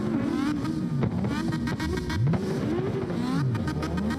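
A Mazda RX-7 rotary engine in a racing video game revs continuously, pitch swooping up and down through gear shifts, loud and close, with no talking.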